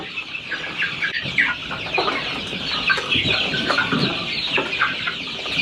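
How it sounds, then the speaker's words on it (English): Young barred rock and Freedom Ranger chicks cluck and chirp continuously in a coop, a busy overlapping chorus of short calls heard close and fairly loud. "These chicks, they're growing great right now."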